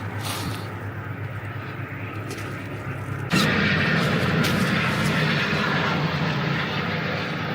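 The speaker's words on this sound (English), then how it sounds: "A rescue team by helicopter came looking for him." A steady rescue helicopter engine roars overhead, holding a continuous drone that jumps louder partway through and stays strong.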